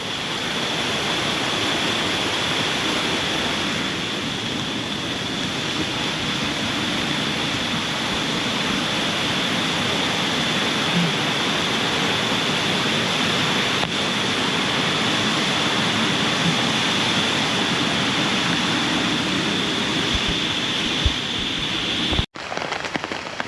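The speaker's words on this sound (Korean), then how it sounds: "아 물소리" Steady rushing of a mountain stream beside a wet, rocky trail in Gayasan National Park on a rainy day, a continuous broadband wash of flowing water that holds even and loud throughout with no voices.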